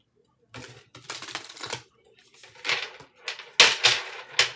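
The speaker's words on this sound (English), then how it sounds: "All while I'm shuffling." Tarot cards being shuffled in bursts of quick riffling and slapping, with short pauses between, close and moderately loud.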